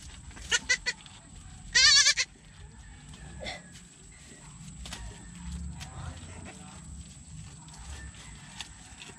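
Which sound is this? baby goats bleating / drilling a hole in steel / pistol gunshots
baby goats bleating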